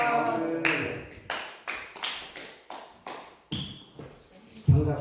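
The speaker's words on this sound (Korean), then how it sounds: "강사 목사님 나오실 때 할렐루야로 하나님께 영광 돌리고 박수로 맞이하겠습니다" At a dawn prayer revival service, a congregation claps to welcome the pastor with a series of sharp, spaced claps echoing in a large hall, with voices calling out between them.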